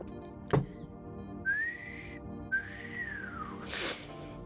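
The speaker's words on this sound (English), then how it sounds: "I know that I'm bad at whistling," Someone whistles alone, close by: two sustained tones, the first rising and holding, the second arching up then sliding down, followed by a breathy rush of air.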